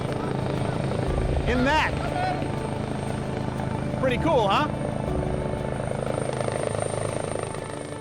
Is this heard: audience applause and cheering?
no